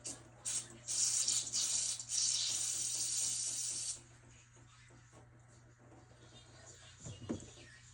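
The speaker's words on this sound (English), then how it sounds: "I have the hot run water on and it's spraying" Hot water sprays inside an apartment washing machine as a loud, steady hiss for several seconds, then drops to a quieter wash with a low mechanical hum underneath.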